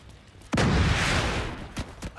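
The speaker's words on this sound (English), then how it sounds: "Mortars." Mortar explosion in The Division 2 during a Dark Hours raid, one sudden loud blast that rolls off over a second, followed by a couple of sharper shots.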